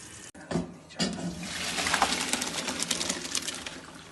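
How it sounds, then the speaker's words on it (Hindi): Water from boiled rice being drained into a strainer, a sudden splashing gush that builds into a steady pouring rush, close and fairly loud. "अब इनको पानी इनका निकाल देंगे, छानने में डाल देंगे और इनको छान लेंगे अच्छी तरह।"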